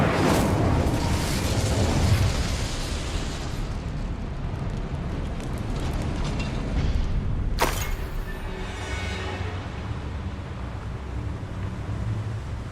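Fiery blast from an Incendio spell in Hogwarts Legacy on PC, a loud roaring whoosh of flame with rumbling noise throughout and a sharp burst near the middle.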